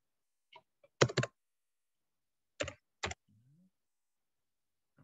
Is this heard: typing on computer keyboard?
yes